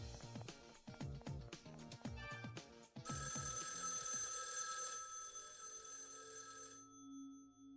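Telephone ringing in the video game Raidou Remastered, a rapid repeating electronic bell trill in several bursts for about three seconds, then a sustained ringing tone that fades out, heard clearly with no talk.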